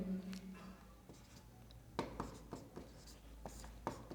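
Chalk or marker writes numbers on a classroom board in a chemistry lesson, short scratchy strokes and taps in irregular bursts, close and fairly faint, with a few sparse quiet pauses.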